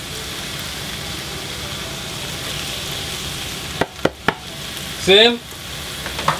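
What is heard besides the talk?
onion and scallion sizzling as they fry in oil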